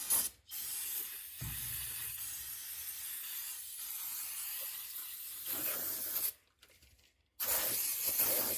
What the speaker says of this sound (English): Get some sprayage here.